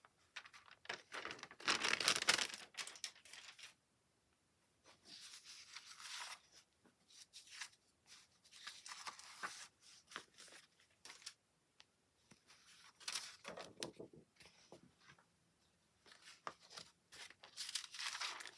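Paper being torn by hand for a collage project, a series of short ripping and crinkling bursts separated by pauses, close and fairly quiet with no talking.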